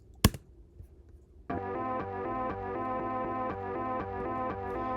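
A chopped BandLab song sample, a short thump followed by a dense, rhythmic stuttering pattern of repeated harmonic chunks that starts abruptly and loops steadily to the end.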